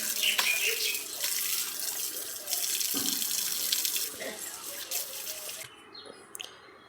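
Water pours and splashes steadily at a household tap area as the washing spot is rinsed with soapy water, continuous and fairly close before tapering off.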